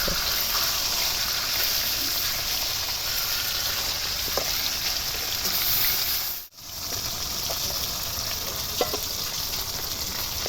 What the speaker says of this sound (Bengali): মাছগুলো এবার তুলে নিলাম যেগুলো ভাজা হয়ে গেছে